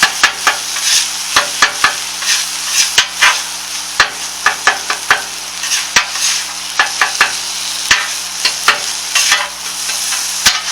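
Chopped beef and cheese fry on a griddle for a chopped cheese sandwich, a steady close sizzle broken by frequent sharp scraping and tapping of a spatula on the metal.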